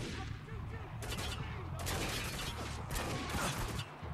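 Gunfire in the war shooter game Spec Ops The Line, a few sharp shots and bursts breaking over a low steady rumble, fairly faint overall.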